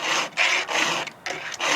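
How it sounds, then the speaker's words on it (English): Hand file rasping across chainsaw chain teeth during sharpening, a few rhythmic back-and-forth scraping strokes with short pauses between them, close and clear. "So I kind of sharpen my chainsaw teeth a little weird"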